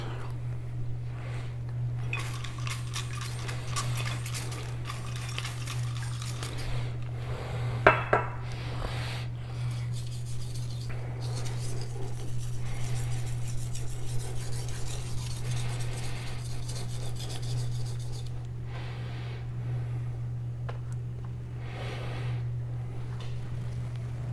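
A knife is sharpened on an Indonesian natural whetstone with a soft, steady scraping and rubbing, heard close but fairly quiet over a constant low hum, with one sharper clink partway through.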